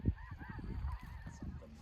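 Snow geese honk in a noisy flock, overlapping calls repeating steadily with one loud close honk at the start over a busy chorus.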